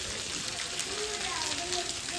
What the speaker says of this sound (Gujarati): અત્યારે અમારા ગામમાં મસ્ત મજાનો વરસાદ આવે છે